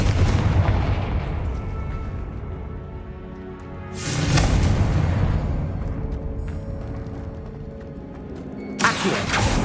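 Confringo blasting curse explosions in Hogwarts Legacy, a video game, heavy booming blasts with rumbling decay, one at the start, another around four seconds and a sharp burst near the end, loud and close.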